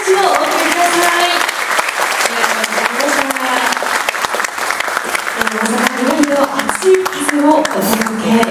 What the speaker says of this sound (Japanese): どうぞ今一度大きな拍手をお送りください。